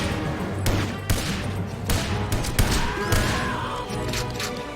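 Enemy gunfire in the GameCube game James Bond 007: Everything or Nothing, loud and close, with bursts of shots, thuds and impacts over a continuous rumbling game soundtrack.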